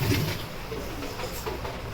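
Inside the Guntur–Repalle MEMU train 67249 running fast near New Guntur, a constant low rumble with faint rattling and a slightly louder thump at the start, no speech.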